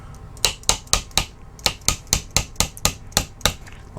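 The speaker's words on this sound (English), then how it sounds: "So a little punch and a small hammer." A small hammer striking a steel punch to drive a tight pin out of an Intratec DC-9 pistol receiver: about fourteen sharp, close metallic taps in a fairly even rhythm, with no talk.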